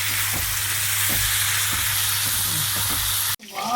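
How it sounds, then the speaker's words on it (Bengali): Jackfruit curry with spices crackles and hisses in a pan as it is stirred with rhythmic scraping strokes under a strong steady sizzle, then cuts off abruptly. "একটু ভালো করে নেড়ে ঢেকে দেবো।"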